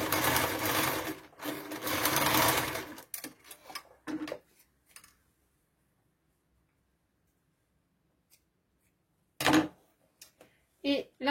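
A domestic sewing machine stitches a fabric pouch in loud bursts at the start, then falls silent for several seconds before brief clicks and short runs resume.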